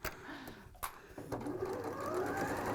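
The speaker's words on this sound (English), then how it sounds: "all I'm doing still again is just stitching the top" Sewing machine stitching along the top of a pleated tote bag from a Riley Blake kit, a soft rapid whir with brief pauses and clicks, while someone talks quietly over it.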